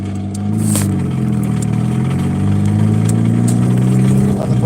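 A car engine running roughly, a loud close low rumble with an uneven, labouring tone that holds steady for a few seconds, no talking.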